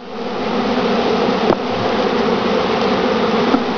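Dense, continuous buzzing of many honeybees close by as they are installed in a top bar hive, a steady droning hum with a couple of faint clicks or knocks mixed in.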